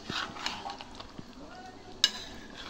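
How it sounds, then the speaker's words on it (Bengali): Spiced meat being stirred in a cooking pot, soft scraping and shuffling with light sizzle, a few faint spoon knocks and one sharp metallic clink against the pot, fairly quiet. "এবার মাংসগুলোকে ভালোভাবে আমি নাড়াচাড়া করে নেব বেশ কিছুক্ষণ।"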